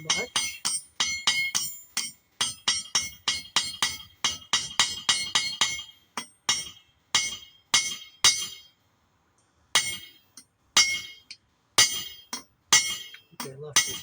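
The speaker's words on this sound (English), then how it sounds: "So let's hit it a few more times here." Hammer striking a steel bolt on an 11-inch C-clamp locking plier, a rapid run of sharp metallic clinks giving way to slower, spaced blows, close and bright, with someone talking briefly.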